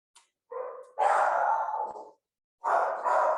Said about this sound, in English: I'm home with 2 dogs, so sorry for the noise